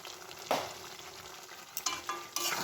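Chicken stirred and sautéed in a pan, a soft steady sizzle broken by a few sharp scraping strokes of the spatula, close and alone with no talk.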